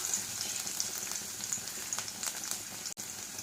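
Black peppercorns spluttering in hot oil in a pan while frying for a gravy, a steady fine crackle with scattered pops, close and fairly quiet, with no voices.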